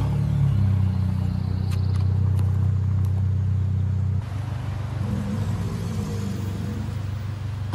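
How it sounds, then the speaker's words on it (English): A car engine revs hard and rumbles loud and close, then drops to a steadier lower idle partway through. "An alligator heard this car engine and wanted to compete."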